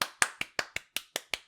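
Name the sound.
hand clapping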